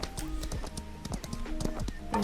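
Horse hooves clip-clop in Equinox: Homecoming in a quick, close rhythmic pattern of hoof strikes. A brief sustained tone enters at the very end.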